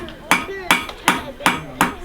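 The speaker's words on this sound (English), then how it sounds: "With metal this hot, it moves with your hammer" A blacksmith strikes hot metal with a hammer at a coal-fired forge on a Michigan farm: six sharp, ringing blows in an even rhythm about every third of a second, loud and close.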